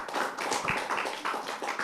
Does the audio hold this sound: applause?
yes